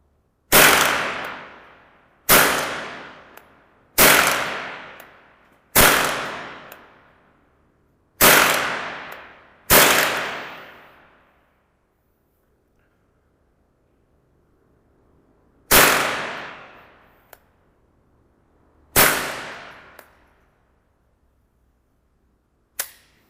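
Remington Nylon 66 semi-automatic .22 rifle firing sharp single shots, six in fairly quick succession, then a pause and two more, each crack loud and close with a short ringing decay; no talking.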